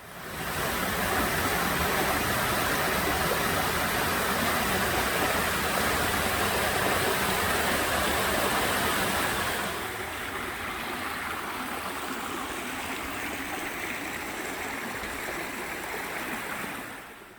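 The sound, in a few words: waterfall flowing down rock cliff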